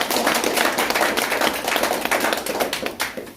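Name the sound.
audience clapping at a political rally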